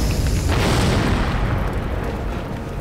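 A loud, rumbling explosion in a Korean firefighter and police TV drama, a deep sustained boom that fills the scene and slowly decays, with no voices over it.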